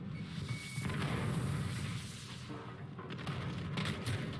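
A grenade thrown during a Call of Duty: Modern Warfare multiplayer match, a whoosh followed by booming blasts and gunfire-like cracks in a busy battle mix, fairly distant and muffled.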